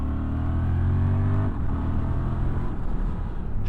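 A 2023 Honda XL750 Transalp motorcycle accelerating on the road, its engine loud and close with a steady drone that rises in pitch and then settles into a continuous whirring run.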